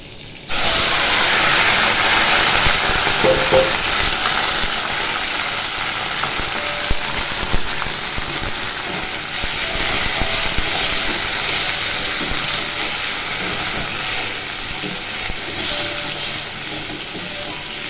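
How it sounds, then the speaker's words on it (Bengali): A sudden loud hiss as capsicum and onion hit hot oil, settling into a steady, strong sizzle that continues without pause. "এবার ওই তেলেই আমি ক্যাপসিকাম আর পেঁয়াজ দিয়ে দেবো"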